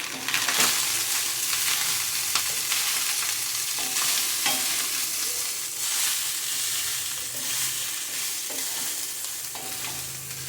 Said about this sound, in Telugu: ఈ రైస్ని మనం వేసుకుందాం. ఫ్లేమ్లో ఉంచి ఫ్రై చేయండి.